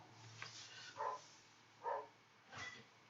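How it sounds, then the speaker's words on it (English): A dog barking outdoors, three or four separate muffled barks spaced about a second apart, distant and fairly faint. "And you guys hear my dog out there going nuts."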